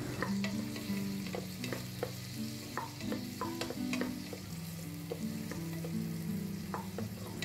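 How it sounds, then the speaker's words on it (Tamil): Green chilli, onion and tomato sauté in a pan, a soft continuous sizzle under repeated clanking stirs from a spatula against the metal, with a low background hum and no voices. "இதெல்லாம் சேர்த்துட்டு நல்லா இது போல வதக்கி விட்டுக்கலாம்"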